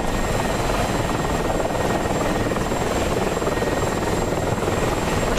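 Mi-24 Hind attack helicopter in a combat flight game, a steady loud rotor and turbine drone with constant beating chop throughout, no voices.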